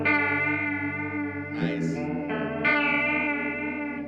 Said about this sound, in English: for a 2-knob chorus, this is really one of the best pedal chorus